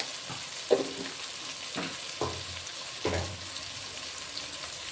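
Spatula scraping and stirring garam masala and coriander powder into spinach pulao with half-cooked tomatoes in a pan, four distinct stirring strokes over a steady sizzle, close by.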